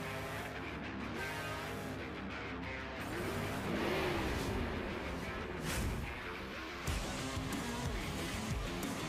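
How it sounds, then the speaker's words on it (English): A monster truck engine revs in a racing video game, a loud continuous engine drone with rising and falling pitch sweeps, a sharp surge near the middle and a sudden burst toward the end. "I don't feel like the monster truck is flying around that course."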